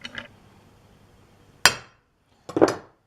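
A hammer strikes a metal center or transfer punch three times at close range, each a sharp ringing clink: a light tap, then a crisp blow, then a final double strike after a pause.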